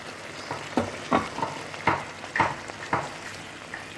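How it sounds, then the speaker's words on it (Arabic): Chicken breasts and vegetables sizzle in hot oil for a chicken fajita pasta, with a steady frying hiss broken by repeated stirring scrapes and clatters at close range. "كنرجعوا الدجاج، صدور الدجاج كنرجعوا نضيفوهم على الخضار"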